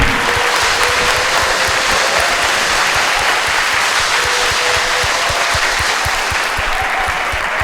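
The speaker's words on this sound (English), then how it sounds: "You can give us a round of applause," A fundraiser audience for a 73rd birthday breaks into a sustained round of applause, dense and steady throughout, with no talk over it.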